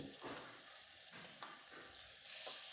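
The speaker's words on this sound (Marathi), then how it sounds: "आणि आता टाकायचा एक टॅमॅटो अख्खा चिरलेला तर पूर्ण मी टाकून घेणार आहे तेल बी आपलं अगदी आपलं छान पद्धतीने तापलं आहे" A whole chopped tomato fries in hot oil in a pan for an eggplant and chana dal dish, a soft, steady sizzle and hiss with faint crackles, quiet and alone without talking.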